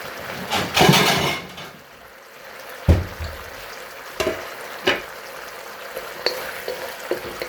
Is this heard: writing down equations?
no